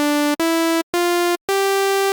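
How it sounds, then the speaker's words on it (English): A bright, buzzy sawtooth wave from a Serum wavetable synth sounds in four sustained notes, rich in harmonics and rising slightly in pitch, each cut off by a brief silence, loud and isolated. "We have this, which is the saw wave."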